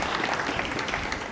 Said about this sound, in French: M. Vikenga Alidou, il faut l'applaudir